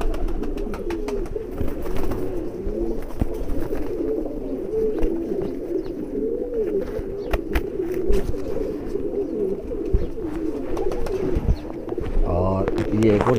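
A male pure breeder pigeon coos in low, repeated throaty rolls, steady and close throughout, with clicks and faint rustling around it and no voice heard.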